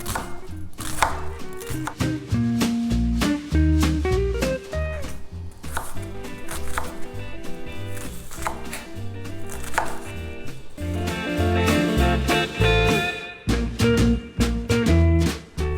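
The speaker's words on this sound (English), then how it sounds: "Cutting up your onion." A knife chops onion on a cutting board, with repeated quick strikes running steadily under louder background music.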